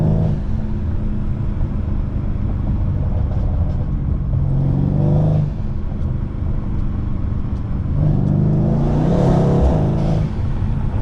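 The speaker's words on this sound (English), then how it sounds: "It ain't illegal to downshift though." Mercedes C63 AMG engine revving on downshifts while driving in winter, a deep rumbling drone broken by two loud rising blips of engine revs, heard from inside the car.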